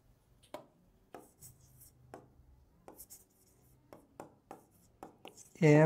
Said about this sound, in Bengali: চলো ইংরেজি নামটাও আমরা এর নিচে লিখে ফেলি